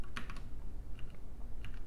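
Quick bursts of typing on a computer keyboard, a few close crisp key clicks in short clusters with small pauses between them, alone and fairly quiet.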